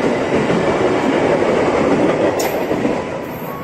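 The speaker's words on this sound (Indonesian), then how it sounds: "Jalur 2-nya berangkat juga komuter lain tujuan Bogor Tokyo Metro seri 6008 kereta" A Tokyo Metro 6000 series KRL commuter train bound for Bogor moves along a station track with a dense, loud rumble and rattling wheels, close by, easing slightly toward the end with a faint high squeal.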